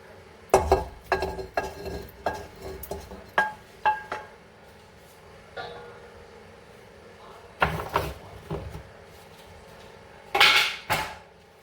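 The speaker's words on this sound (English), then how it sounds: "I'm going to go ahead and put in the rest of the onions." Onions go into a pot for Vietnamese braised beef short ribs, heard as a run of close clinks and knocks against cookware, some spaced out and some in quick bursts, with quiet gaps between them.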